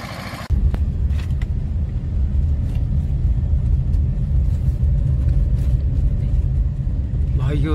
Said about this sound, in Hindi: एस्कॉर्ट 335 शुगर फैक्ट्री पे जा रहा है भाइयों